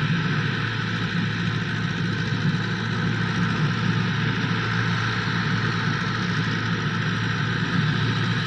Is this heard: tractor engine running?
yes